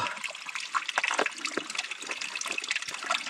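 A stream beside a hiking trail on the Grafton Loop rushes and gurgles steadily close by, with splashy bursts of running water throughout.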